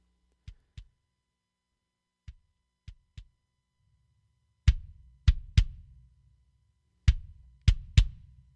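Isolated kick drum hits processed by a compressor with a low threshold, high ratio and slow attack: a few faint thumps, then a louder group of punchy beats in pairs and triples with short decays, alone.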